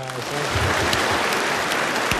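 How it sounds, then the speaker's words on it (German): A crowd claps in a steady, dense wash of applause that holds throughout, fairly loud and close. "Ich glaube, das ist einen kräftigen Applaus wert."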